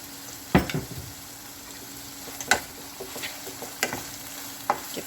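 Risoles filling stirred in a pan with pepper and sweet soy sauce, a soft steady sizzle marked by several distinct spoon scrapes and knocks against the pan.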